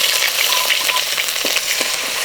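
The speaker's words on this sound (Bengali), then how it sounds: "তেলটা গরম হয়ে গেছে, আমি লং দিয়ে দেবো। এরপরে গ্রেট করা আদা আর রসুন বাটা দিয়ে দেবো," Grated ginger and garlic paste with cloves crackles loudly in hot oil in a wok, a dense close-up sizzle with light stirring, no voices.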